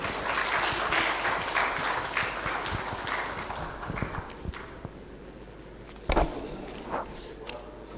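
Audience applause at an aerospace and defence conference, loud dense clapping that fades gradually over several seconds, followed by a brief burst of louder claps near the end.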